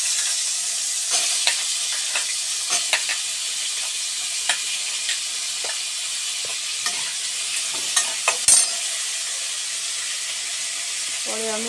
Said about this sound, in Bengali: তরকারিগুলো, এই সবজিগুলোকে এখন আমি তেলের মধ্যে দিয়ে দেবো।